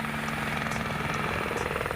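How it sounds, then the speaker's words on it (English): A rescue helicopter pulls away over mountain terrain, its steady rotor thrum and turbine whine continuous and fairly distant. "the helicopter pulls away to conserve fuel"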